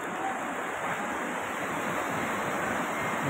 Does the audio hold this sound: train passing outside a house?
no